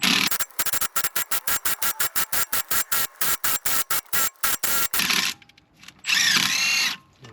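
A small power gun works the front strut bolts on a 2007 Subaru Impreza WRX, firing in rapid, regular short bursts close by, then a longer steady whir near the end. No one talks.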